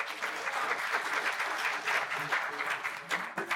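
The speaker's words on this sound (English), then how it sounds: "one last round of applause" Audience applause at a writers' festival panel in London, a steady, dense round of clapping from a seated crowd lasting throughout, with no talk over it.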